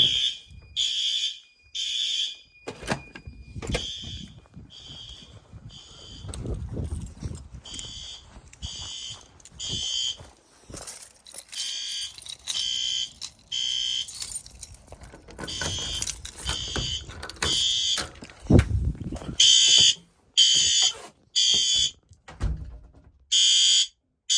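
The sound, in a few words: fire alarm horn strobe sounding during testing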